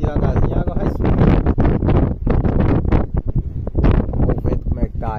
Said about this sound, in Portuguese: O vento bom tá fazendo remanso na água e rodando a água.